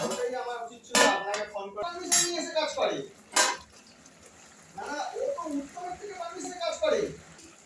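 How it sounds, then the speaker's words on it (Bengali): A cooking pot for a vegetable and fish curry is handled and covered, with close metallic clanks and clinks of a lid and utensils while someone talks in between. "আর এবার আমি ঢেকে দিচ্ছি।"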